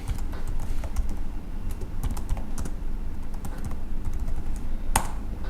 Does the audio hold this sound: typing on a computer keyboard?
yes